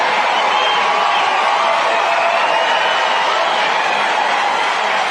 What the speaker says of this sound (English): And the crowd absolutely loved it.